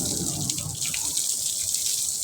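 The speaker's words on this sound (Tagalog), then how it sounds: "paandarin ko yung gripo" Water gushes steadily from a kitchen tap beside a sink, a close, continuous splashing rush that runs unbroken throughout with no voices over it.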